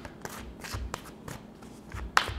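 Tarot cards being shuffled by hand during a card reading, a close series of quick papery riffles and soft slaps in uneven bursts with no talking.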